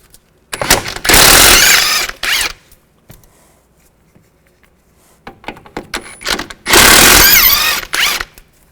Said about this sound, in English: Take the two nuts off right here. Use a 18mm socket.